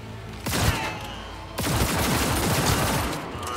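Rapid pistol gunfire from the Cyberpunk 2077 video game, two loud bursts of overlapping shots and booms in quick succession, dense and close with ringing tails.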